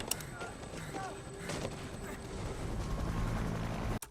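A steady, roaring helicopter drone fills the air continuously, loud and close, then cuts off abruptly at the very end.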